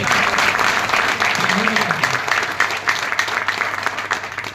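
An audience at an event claps steadily in a sustained round of applause, fairly loud and close, with a voice heard briefly over it.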